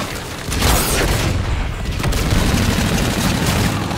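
Noob tube grenade launcher blasts and rapid gunfire in the shooter game Infinite Warfare, loud and dense, with a booming burst about half a second in and continuous crackling fire after it.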